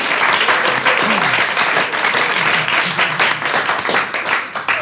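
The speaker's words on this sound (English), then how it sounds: "Let's give them a round of applause, yes." Studio audience applause on a comedy quiz panel show, a steady, full wash of clapping filling the whole stretch, close and loud, with no voices breaking through.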